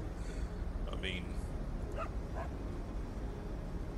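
A dog in the Cities Skylines 2 city-building game yips and barks in a few short, faint bursts amid busy background ambience while someone talks over it.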